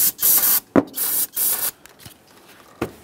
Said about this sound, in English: I'm just gonna use a tiny bit of parts cleaner here.